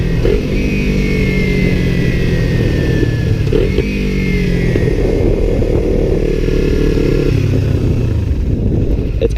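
Motorcycle engine held at steady loud revs, dropping in pitch as it shifts from third gear down to second, close and continuous with no pause.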